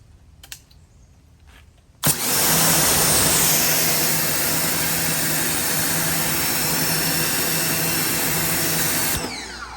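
A budget pressure washer in a three-unit test setup rated around 3.2 GPM kicks on abruptly after a quiet start, then holds a loud, steady, close-up roar and hiss for several seconds before cutting off.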